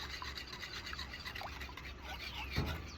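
Sourdough starter being stirred in a bowl, a soft continuous scraping and rubbing with a few louder scrapes near the end, close and alone without talk.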